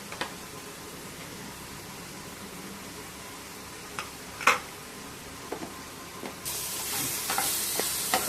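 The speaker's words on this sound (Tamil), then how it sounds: "இப்போ இதெல்லாம் ஒன்றா கொஞ்ச நேரம் நல்லா வதங்கணும்." Onion and tomato sautéing together in a pan, a steady soft sizzle with a few sharp scrapes and taps of a spatula, the frying growing louder and hissier toward the end.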